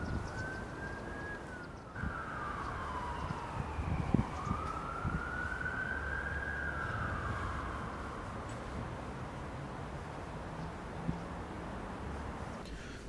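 Police sirens wail steadily in the background of a film scene, a long rising and falling tone sounding moderately distant with no talk over it.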